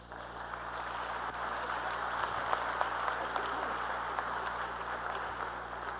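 Audience applause at a conference session on cities and societies, a continuous even patter of clapping heard from some distance over a low steady hum.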